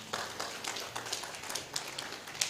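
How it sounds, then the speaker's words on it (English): Faint, scattered applause from a convention audience at the Uganda Diaspora Convention, soft irregular claps that come and go over a few seconds at a distance. "can we give her a stronger applause?"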